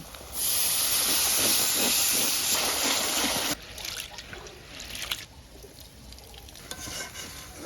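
Ground spices with garlic paste, turmeric, chili and cumin hiss and sizzle loudly in hot oil in a pan, a steady bright frying hiss that cuts off abruptly and gives way to quieter scraping and stirring.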